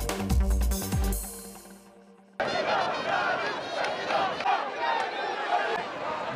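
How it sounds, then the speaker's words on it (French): A crowd of hundreds of Ali Bongo supporters chants his name in the streets of Libreville, a loud, dense mass of voices that swells in after a short lull and keeps going. "des centaines de partisans du président Ali Bongo scandent son nom"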